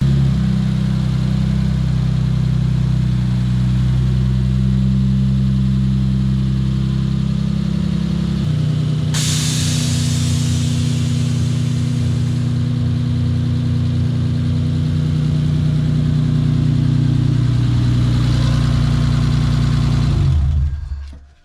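A car engine idles steadily as the car is driven slowly into a garage, a loud close rumble that shifts in tone partway through and then cuts off at the end.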